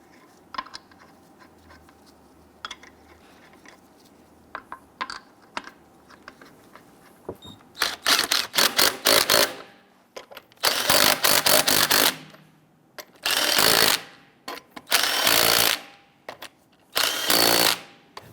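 Wheel lug nuts on a 2011-2021 Jeep Grand Cherokee are first threaded with faint metallic clicks, then a power tool snugs them in five loud, close, buzzing bursts of a second or two each, separated by short pauses.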